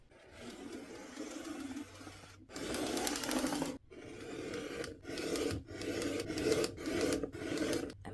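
Fabric strips for a quilt are cut in a series of scraping, rasping strokes, several back to back with brief pauses between them, close and moderately loud.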